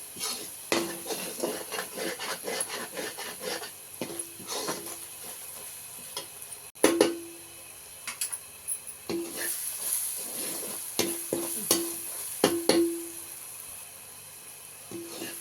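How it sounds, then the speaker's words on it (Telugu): Boiled mutton pieces being stirred into frying masala in a pan for mutton curry, with repeated clinks and scrapes of a spoon against the metal at an irregular rhythm over a low continuous sizzle, close and fairly loud. "ఇది పచ్చి వాసన పోయేంత వరకు బాగా వేగాలండి"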